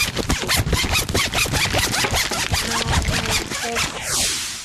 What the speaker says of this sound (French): Solo de fermeture éclair.